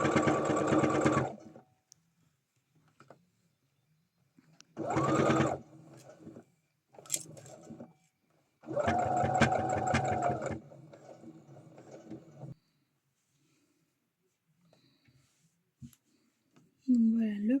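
Sewing machine stitching a jacket, running in several short bursts of a few seconds each with quiet gaps between, close and fairly loud, with a brief voice near the end.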